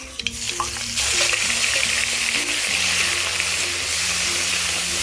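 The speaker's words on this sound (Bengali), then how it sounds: "আর ঠিক এই পর্যায়ে দিয়ে দিচ্ছি আগে থেকে বেটে রাখা পেঁয়াজ।" Onion paste hits hot oil with popping mustard seeds, setting off a loud, steady sizzle and frying hiss that swells after an initial clatter and continues close up; a low hum runs underneath.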